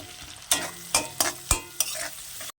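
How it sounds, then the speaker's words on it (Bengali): Onions frying in a pan with turmeric, salt and chilli powder, a soft sizzle broken by five sharp scraping stirs of a spatula at irregular intervals, close and clear. "এখন চলো পেঁয়াজটাকে একটু ভাজা ভাজা করে নিই।"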